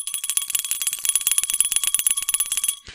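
A bicycle bell rings rapidly and repeatedly for nearly three seconds, a bright metallic trilling that is close and loud before it stops abruptly, with no voices over it.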